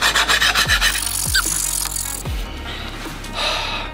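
A knife blade is scraped and rubbed on an abrasive in quick back-and-forth strokes, close and fairly loud. Several strokes come first, then rasping continues more softly.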